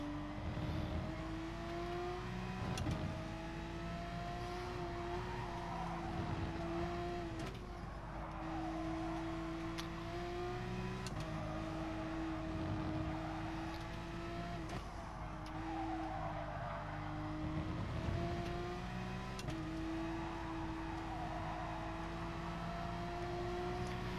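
Porsche 911 RSR 991 racing car lapping Suzuka in Gran Turismo Sport, its engine note droning steadily, rising through the gears and dropping sharply on shifts and braking, continuous and prominent with no voices.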